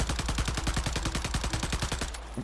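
Rapid automatic fire from the Eradicator gun in a video game, a steady stream of about twenty loud shots in even rhythm that stops abruptly near the end, with no talking.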